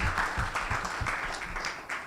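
Audience at a startup policy report launch clapping for panel discussants, a brief burst of many hands with individual claps distinct, fairly close and moderately loud.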